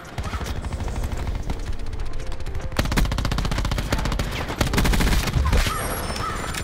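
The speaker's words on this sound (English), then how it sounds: "What am I getting shot by?" Rapid automatic gunfire in the video game Black Ops 4, dense bursts of shots crackling almost continuously, loud and close, with brief pauses and a heavier burst near the end.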